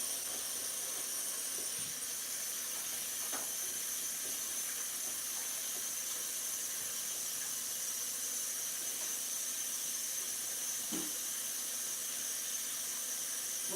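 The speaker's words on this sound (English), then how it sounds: "I'm just over here at my sink, washing out the sink, making me some fresh dishwater" Water running steadily into a kitchen sink to fill fresh dishwater, a constant hissing rush that stays even and fairly loud, with a few faint knocks and clinks underneath and no talk.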